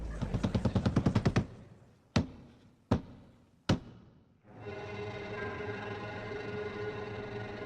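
Revolver fired after its cylinder is loaded: a rapid run of about ten sharp shots, then three single reports spaced roughly a second apart, followed by a steady mechanical hum.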